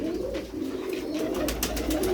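An old-breed pigeon gives a continuous low rolling coo at close range, steady throughout, with faint rustling in the background.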